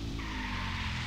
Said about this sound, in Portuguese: Olha, nossa, não precisa nem frear, mano. Já derrapa sozinho, meu parça.